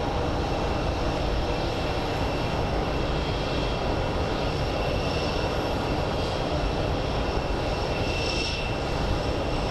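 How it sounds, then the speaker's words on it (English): A Southwest airliner arriving from Indianapolis roars steadily at Phoenix Sky Harbor airport, its engine noise loud, broad and unbroken for the whole stretch, with no voices. "our next plane is a Southwest from Indianapolis"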